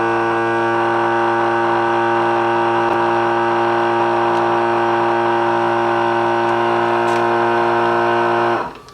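A CalmDo vacuum sealer runs with a steady, loud motor hum and drone while sealing a plastic bag holding a cookie, then cuts off abruptly near the end.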